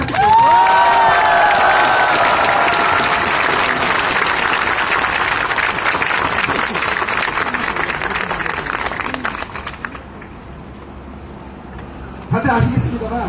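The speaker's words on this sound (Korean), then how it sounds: "해솔 양 힘내시라고 정말 큰 박수 한번 부탁드립니다" Crowd at a victims' protest rally clapping and cheering loudly, with shouts rising over dense applause that gradually fades before a speaker's voice returns.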